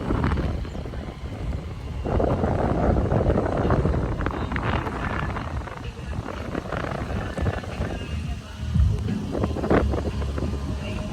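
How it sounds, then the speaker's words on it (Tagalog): Strong wind blows outdoors on an overcast day at Luneta park, roaring and buffeting hard against the microphone in gusts that rise and fall, while a voice is heard speaking. "Grabe lakas ng hangin."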